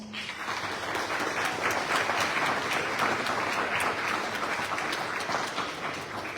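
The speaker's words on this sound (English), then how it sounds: "And you can give them a round of applause." An audience at a 2025 forum in Bedford claps in a steady round of applause that stays even and full for several seconds, close and lively, without speech over it.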